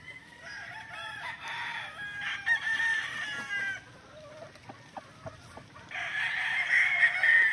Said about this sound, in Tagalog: Ito po yung ating broodcock na super sweater